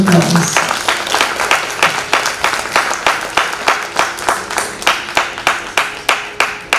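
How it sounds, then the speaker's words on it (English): An audience applauds after a Dhrupad music performance at a World Music & Yoga Day concert: loud, steady clapping, falling into a fairly even rhythm of strong claps that carries through the whole stretch. "give these artists a huge round of applause"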